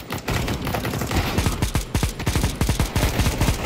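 Rapid automatic bursts from an M249 machine gun in CS:GO during arms race play, a dense, loud rattle of closely spaced shots sustained through the whole stretch with brief irregular gaps.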